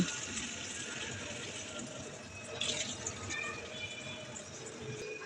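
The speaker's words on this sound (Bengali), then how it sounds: "এবার দিয়ে দেব দুই কাপ পানি" Two cups of water poured into a pan of fried, spiced potatoes for Kashmiri dum aloo, a soft continuous splash and trickle at moderate distance, fairly quiet.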